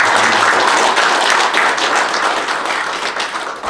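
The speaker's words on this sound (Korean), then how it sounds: "박수 한번" Indoor audience clapping at a general meeting of retired generals, a dense steady round of applause that holds strong and then eases slightly toward the end, with no talking over it.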